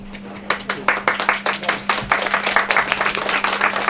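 Scattered applause fills a press conference hall opening a festival, sharp individual claps building into a steady patter for several seconds, with a constant low electrical hum running underneath.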